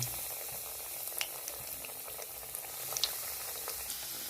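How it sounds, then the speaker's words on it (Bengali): Chicken cutlets fry in hot white oil, making a soft, continuous, fairly faint sizzle with scattered small pops, and nobody speaks. "তেলটা গরম হয়ে গেছে, এর মধ্যে এবার আমি একটা একটা করে দিয়ে ভেজে নেব।"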